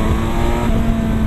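A Kawasaki Versys 1000 motorcycle with a 120-horsepower engine accelerating in third gear, a loud, close, steady engine drone heard alone over a short stretch.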